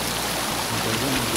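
Rushing water of the second fall at Mandala Falls fills the short stretch with a steady, close, full-bodied roar and no break.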